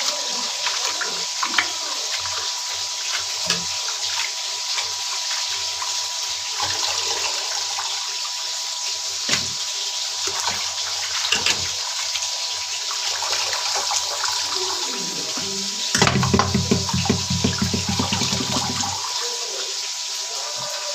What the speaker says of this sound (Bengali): এখন আরো ভালো মতো ধুয়ে নিই, কারণ শাকের মধ্যে অনেক বালু থাকে।